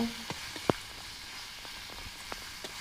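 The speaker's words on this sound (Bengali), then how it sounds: "এবার টমেটো কুচি দিয়ে আরও দু থেকে তিন মিনিট কষিয়ে নেব" Quiet, steady sizzle of spices frying with chopped tomato for a chicken curry, with a soft hiss and scattered small pops and spatters throughout.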